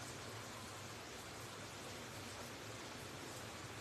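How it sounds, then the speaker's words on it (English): Heavy rain falling outside an open door, a steady broadband hiss of downpour that stays constant and unbroken throughout, with no voices over it. "It's raining cats and dogs."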